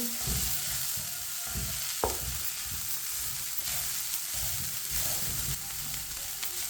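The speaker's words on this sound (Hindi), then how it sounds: "चिकन को भी 1 मिनट के लिए पका लिया" Chicken kebab mixture for Chinese kebabs sizzles steadily in a pan, a continuous frying hiss with soft stirring scrapes and one sharp utensil tap near the middle, no voices.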